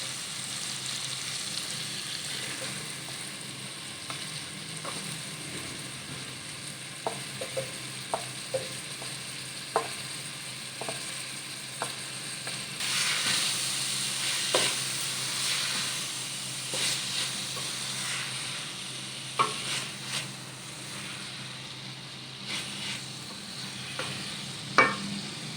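Chicken and daal mash frying in a pot while being stirred, a steady sizzling hiss with repeated scraping clicks of a spoon against the pot, close and moderately quiet.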